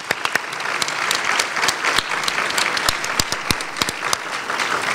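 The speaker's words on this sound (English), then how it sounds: "We should give them a round of applause to start off with." An audience at a 2015 gala applauds the Board of Trustees with steady, close clapping; individual sharp claps stand out over a dense wash of hands for several seconds.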